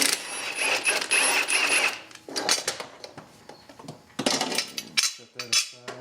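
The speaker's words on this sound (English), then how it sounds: "So to remove the blade, just remove this bolt here. It's 16 millimeters." A 16 mm bolt is worked loose from the blade of a rear-wheel-drive Lawnboy lawnmower, with close metallic clinks, ratcheting clicks and scraping in irregular bursts and short pauses.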